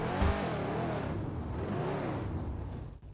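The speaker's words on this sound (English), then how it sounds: "I really love the way this car sounds" The Drift Tampa car in GTA 5 Online drones along with a steady, loud engine note whose pitch rises and falls in smooth sweeps, fading slightly at the end.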